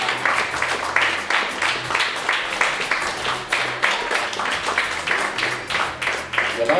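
Steady applause from an audience at a figure-club weight-loss event, dense rapid clapping that holds evenly throughout with a faint murmur beneath.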